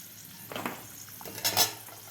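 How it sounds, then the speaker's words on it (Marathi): Cashews, almonds and raisins frying in oil for a sweet-spicy corn poha chivda, a quiet sizzle with a couple of soft stirring scrapes and utensil clinks against the pan. "काजू बदाम आणि बेदाणे व्यवस्थित तळलेले आहेत"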